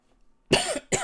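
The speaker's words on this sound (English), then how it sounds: "I'm keep on coughing" Two harsh coughs from one person, close to the microphone, the first longer and raspier, the second a short follow-up burst, after a near-silent start.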